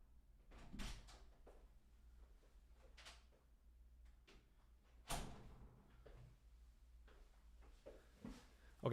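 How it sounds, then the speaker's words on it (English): An indoor door is slammed shut, yanked by the draft from a fan, giving one sharp bang partway through amid scattered smaller household knocks and clatter, with no talk. "I also did not mean to slam the door."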